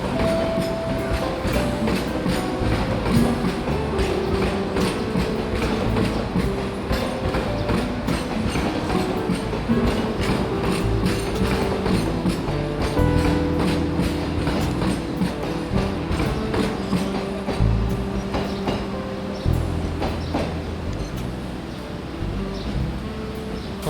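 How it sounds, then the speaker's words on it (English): A vintage train runs along the centre of streets through Palma de Mallorca, giving a steady rumble with rhythmic rattling and clattering that continues throughout, close by and fairly loud. "the train travels along the centre of streets"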